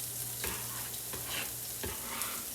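Onions frying in a hot pan give a steady, close sizzle, broken by a few soft clatters of stirring; no one talks.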